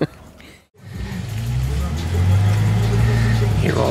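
A car pulls up and arrives home, its engine rumble rising from quiet to a steady, fairly close low drone that fills most of the clip, with faint background sounds and no clear speech.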